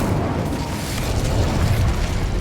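Incendio fire spell cast in the video game Hogwarts Legacy, a dense, roaring whoosh of flame that holds steady and loud for a couple of seconds with a booming low rumble throughout.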